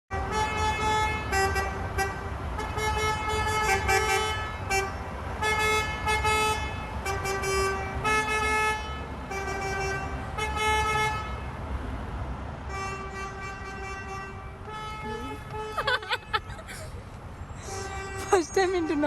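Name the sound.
frustrated drivers honking car horns in traffic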